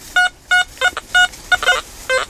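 A metal detector over a ferrous iron target gives a series of about eight short electronic beeps in an irregular rhythm, clear and close against a quiet outdoor background.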